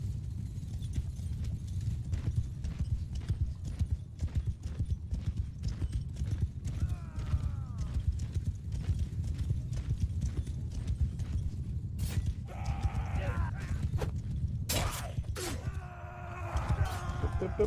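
Massed hoofbeats of mounted horse archers galloping in the battle game Mount & Blade 2: Bannerlord, a dense continuous clip-clop rumble with occasional creaks and whinnies, steady and loud throughout.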